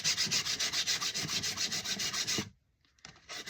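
Coarse 60-grit sandpaper rubbing a new hickory axe handle in quick, steady back-and-forth rasping strokes, close and loud for over two seconds, then a brief pause before lighter strokes resume.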